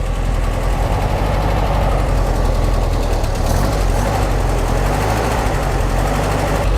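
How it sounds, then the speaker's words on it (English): Speedster car engine running on all four cylinders, idling steadily while warming up, a loud, close, continuous low rumble with an even rapid pulse throughout. "I just want to get it to idle. It sounds pretty good. It's hitting on all four."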